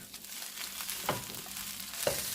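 Broccoli and onions fry quietly in a pan, a soft continuous sizzle broken by two brief scraping stirs.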